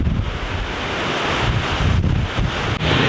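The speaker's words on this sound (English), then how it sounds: "The waterfall is over there." Steady, full roaring rush of a waterfall near Skaftafell, Vatnajökull, Iceland, fills the air continuously, with wind buffeting against the microphone.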